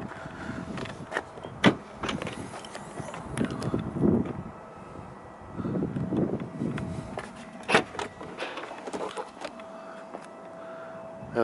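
Split tailgate of a Land Rover Discovery 3.0 TDV6 HSE automatic opening, with a faint motor hum, scattered sharp clicks and latch knocks, and a few soft thuds, heard close with no talking.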